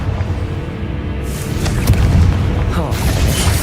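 The Confringo spell in Hogwarts Legacy lets out a booming explosive blast, a dense low rumble that swells and stays loud.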